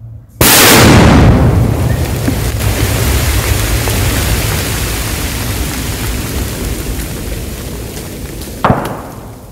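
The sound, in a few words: explosion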